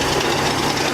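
An agricultural shredder driven by a copper-wound electric motor gives off a loud, steady, close-up mechanical roar with a rough vibrating texture.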